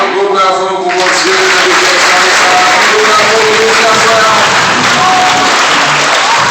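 A church congregation at Sacred Heart in Lake Worth claps during an adoration service. The applause is loud and sustained, with voices mixed through it.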